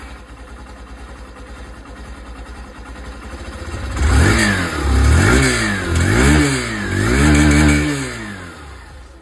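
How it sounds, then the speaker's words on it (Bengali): A Hero Super Splendor Xtec 125 motorcycle idles with a low steady exhaust putter, then is revved hard four times in a row, each rev rising and falling loudly and close by. "আমি আপনাদেরকে এখানে এই যে এক্সস্ট সাউন্ড সেটা শুনিয়ে দিই"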